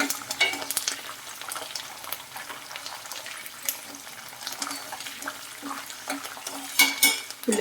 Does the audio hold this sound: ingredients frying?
yes